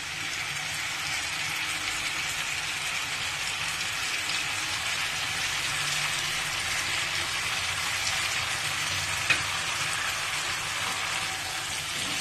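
Potatoes fry lightly in a pan, giving a soft, even, continuous sizzle like steady rain that holds at a moderate level from start to finish, with no voices.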